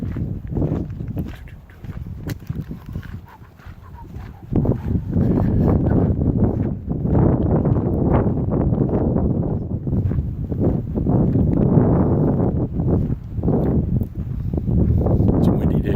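Strong wind gusts across an open property in Alaska, a broad low rumbling roar of wind buffeting the microphone that swells louder partway through and stays heavy to the end.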